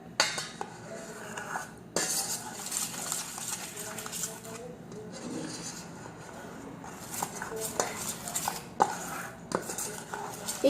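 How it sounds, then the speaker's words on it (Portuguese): A spoon stirs cocoa bread batter in a bowl for a microwave loaf, giving repeated clinks and scrapes against the sides at a close, uneven rhythm. "Agora eu vou misturar."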